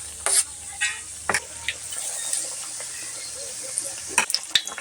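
Aloo chop, potato fritters, frying in hot oil, a steady close sizzle with a few sharp crackles and pops as pieces are dropped in.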